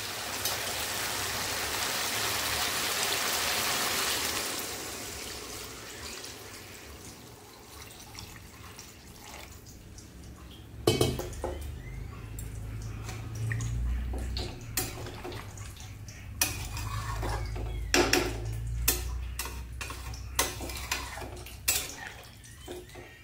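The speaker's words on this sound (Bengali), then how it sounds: "এবার দিয়ে দেব জল।" Water pours into a pan of golden fish and potato curry in a steady, close, rushing hiss for several seconds, then gives way to a quieter simmer broken by scattered clinks and knocks.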